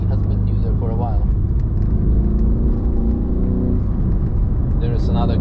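A BMW G30 550i driving on the Nürburgring gives a steady, loud engine and road rumble with a low whir that holds throughout, with voices talking over it.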